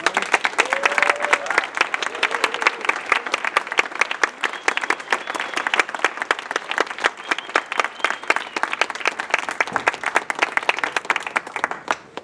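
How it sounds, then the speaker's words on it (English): Crowd applause at a hunger strike rally on a university campus, sustained dense clapping filling the whole stretch, with a few voices briefly heard early on. "Can we please get another round of applause for the massive sacrifice that they're doing?"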